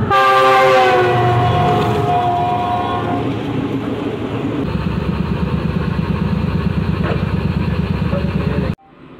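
A train pulls into a station on a branch line near Agra: a loud horn blast with several tones opens, then a steady rhythmic rumble and clatter of coaches rolling close by, ending abruptly.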